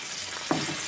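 Tomato pieces and nalleru (veldt grape) stems softening in a pan give off a steady, close sizzle, broken by one brief scrape or stir partway through, with no voices.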